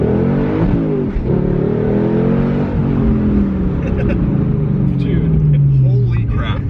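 A 500-horsepower LS V8-swapped Porsche 911 accelerates hard with traction control off, its loud engine note climbing through several gear changes, while people talk and exclaim over it.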